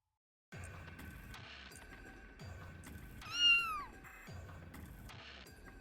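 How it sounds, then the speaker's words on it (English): A cat meows once, a clear, rising-falling call in the middle of a furry game development stream, set against soft repeating background music and clicks. "Oh my god, cat."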